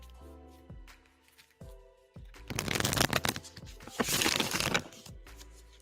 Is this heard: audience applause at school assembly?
no